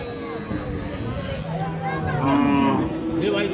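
Cattle moo loudly and repeatedly at a crowded outdoor cattle market, with people haggling over prices over the lowing; Friesian cows with calves.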